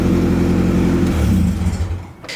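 A Honda Accord V8 swap engine runs loud and close, rumbling low, then its pitch shifts as the revs rise and fall before settling.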